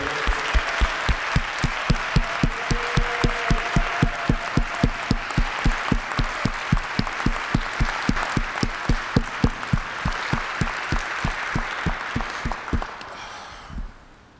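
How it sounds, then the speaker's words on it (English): An award ceremony audience claps with a strong, steady rhythm, many hands beating in near unison, before the clapping thins and fades out near the end. "Please join me in a round of applause"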